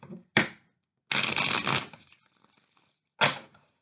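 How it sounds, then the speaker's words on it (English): A tarot card deck shuffled by hand in a few quick riffling bursts, one long crisp rustle between short snaps, close and fairly quiet with no talk. "Give it one more shuffle."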